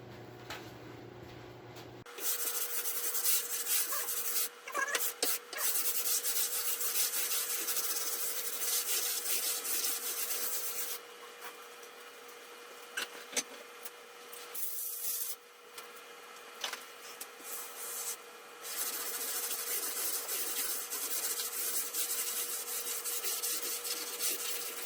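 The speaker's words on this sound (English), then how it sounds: "I'll probably sand a little bit more with that because it's still fairly sharp" Continuous abrasive rubbing of sanding on a live edge wood dining table, steady and fairly loud, with a few brief pauses and shifts in pressure, with no talking.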